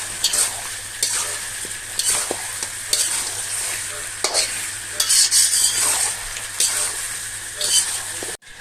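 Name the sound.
sautéing and stirring chicken masala in pan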